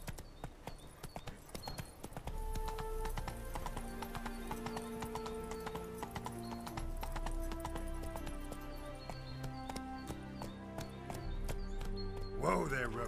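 In The Witcher 3, the horse Roach gallops with steady, rhythmic hoofbeats under a layer of game music, ending in a brief whinny; a voice speaks faintly in places.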